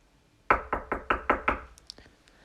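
Six firm, evenly spaced knocks strike a wooden door, close and loud, followed by a brief faint rustle.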